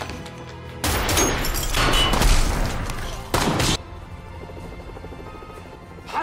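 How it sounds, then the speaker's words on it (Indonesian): Gunfire shattering a glass protective shield in the 2024 action film City Hunter: loud crashing bursts of shots and breaking glass in two sustained waves, the second shorter, then a quieter tail with a final thump. "Rio kemudian menembaki pelindung kaca di tempat itu."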